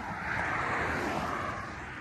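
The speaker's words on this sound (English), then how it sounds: "That was a Boss 302." A Ford Mustang Boss 302 passes close by, producing a brief, loud, broad exhaust rush that swells and fades.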